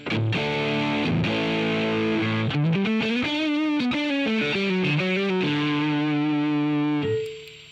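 Electric guitar through an AmpliTube 5 amp simulator with every control on 10, heavily distorted and saturated, a sustained chord moving through sliding bends and shifting notes, loud and thick, ringing out and cutting off at the end.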